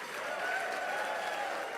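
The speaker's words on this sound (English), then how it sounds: "a very big round of applause, please, for all of those remarkable faculty members" An audience at a university achievement awards ceremony applauds its faculty award recipients, a dense, even wash of clapping that holds steady for the whole moment with no pauses.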